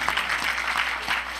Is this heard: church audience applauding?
yes